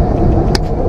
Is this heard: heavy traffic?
yes